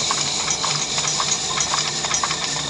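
Steady clip-clop of horse hooves galloping at a quick, even rhythm in The Legend of Zelda: Breath of the Wild, fairly close, with no talking.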